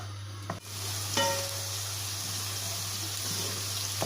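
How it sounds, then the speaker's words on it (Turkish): Onion and garlic sauté in a pan with a steady soft sizzle, broken early by a couple of sharp utensil clicks from stirring. "İçine de soğanımızı ve sarımsağımızı ekleyip şöyle biraz çok fazla kavurmayacağız."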